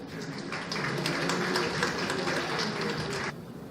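An audience at a university teaching congress in Honduras applauds a pathologist being introduced, a dense burst of many hands clapping for a few seconds that stops abruptly near the end.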